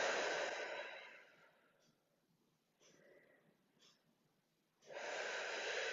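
Long, slow breaths during a cool-down stretch after a total-body tabata workout: a loud close exhale fades out, a few soft quieter breaths follow, then another strong exhale, with no talk.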